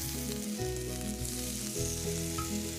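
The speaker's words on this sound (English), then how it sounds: "If you don't hear a sizzle as you add the steaks," Steaks sizzle and fry in a hot pan with a steady, close crackling hiss, partly masked by continuous background music.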